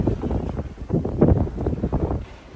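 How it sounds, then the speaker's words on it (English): Steady wind at sea aboard a sailboat on an offshore Atlantic passage, a continuous rushing and buffeting across the microphone, with swells of gusts, moderately loud and without talk. "we got some good wind now"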